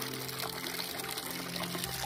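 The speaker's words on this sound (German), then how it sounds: "Und hier kommt das Wasser runtergelaufen. Hier rein." Water trickling from a forest fountain into a cup, a steady close splashing pour that runs on continuously.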